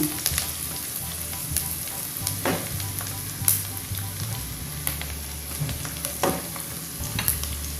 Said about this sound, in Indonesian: Terus diaduk-aduk sampai wangi ya, harum, sampai matang